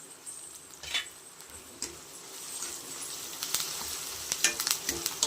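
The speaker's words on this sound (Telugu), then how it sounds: "ఇప్పుడు కరివేపాకు యాడ్ చేసేద్దాం" Curry leaves and onions fry in a pan with a soft continuous sizzle, punctuated by scraping stir strokes and small crackling bursts that grow busier toward the end.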